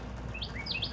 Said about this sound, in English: the birds are trying to keep her away